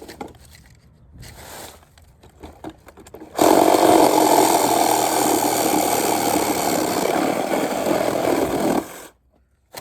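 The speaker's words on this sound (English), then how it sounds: "let me see if I can cut this old piece of hardware off right now while we're here" Old industrial hardware being cut, with a loud, steady powered cutting tool whining and rattling for about five seconds after some quieter handling noises, then stopping abruptly.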